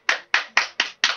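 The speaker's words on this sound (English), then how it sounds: "Give a round of applause to Giggles" Five crisp hand claps in a loose, slightly uneven rhythm, close and clear with short silences between them.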